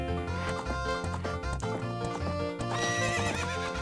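Epona, the horse in the video game The Legend of Zelda: Ocarina of Time, whinnies loudly over rhythmic galloping hoofbeats, with game music running underneath the whole time.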